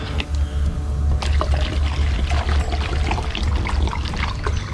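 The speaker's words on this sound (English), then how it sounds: "Get some water in there." Water poured into a camping pot outdoors in the woods, a close, continuous gurgling and splashing stream with a low rumble underneath, heard alone for several seconds.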